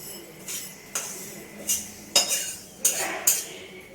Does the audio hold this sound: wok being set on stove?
yes